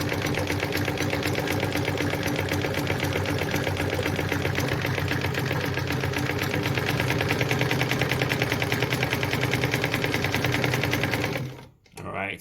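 A Phoenix E10 sewing machine runs a zigzag stitch with a steady, fast mechanical chatter that carries on evenly, close up, then stops abruptly near the end.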